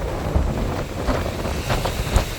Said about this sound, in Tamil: காற்றும் வேகமாக இருக்குது.